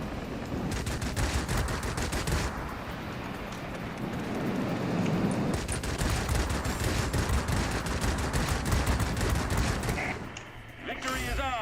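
Warplane cannons and machine guns firing in the World of Warplanes video game, long loud bursts of rapid rattling fire that run almost continuously for about ten seconds before breaking off, with engine drone beneath.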